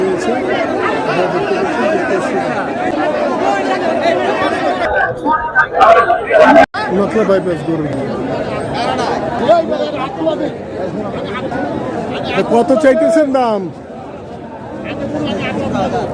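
Dense crowd chatter fills an outdoor Eid cattle market at Nakla bypass, with many overlapping voices and close-up bargaining talk over prices, steady and loud throughout with a short dip near the end.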